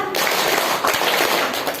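Brisk hand claps repeat in quick succession, close and fairly loud, with a voice briefly speaking Indonesian at the start.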